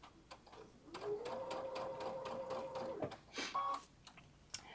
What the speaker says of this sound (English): gently sew over those pins